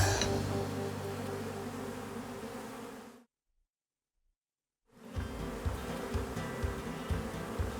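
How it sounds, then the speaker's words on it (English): Dense, steady buzzing from a huge colony of roughly 40,000 honey bees nesting under the floor of an old shed, loud and close, cutting out briefly mid-way before resuming. "There's a lot of bees, there's a lot of honey, and the hives are massive."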